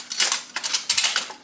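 A metal slotted spoon scrapes and clinks inside a glass jar while scooping out homemade bread and butter pickles, a quick series of close, bright clatters over about a second and a half, with no talk.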